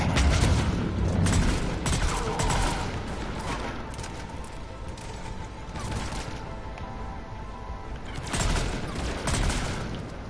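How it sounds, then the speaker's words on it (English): Lift grenade blasts and heavy combat fire in the Mass Effect 3 video game, a dense, loud, continuous barrage of booming bursts and gunfire lasting throughout, with brief swells of louder impacts. "I hit you with lift grenades"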